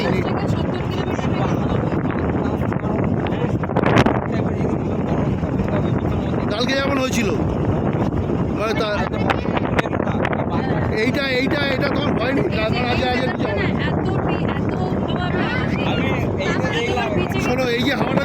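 A strong, stormy wind roars steadily across Mandermoni sea beach, buffeting the microphone in loud gusts while people talk over it throughout.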